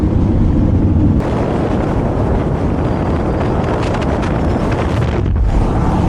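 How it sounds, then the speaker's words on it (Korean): Hot wind gusting across open red country in Karijini National Park, a loud, steady buffeting roar on the microphone that briefly eases and then surges again. "그런 바람 아니고 완전히 뜨거운 바람이에요"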